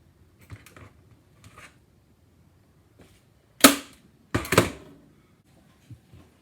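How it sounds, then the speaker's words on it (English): Material is stapled onto a blower belt guard for a supercharged postie motorbike build, two sharp, close staple-gun snaps in quick succession amid faint handling noises. "Staple that on, and then get the perspex and start slumping it over."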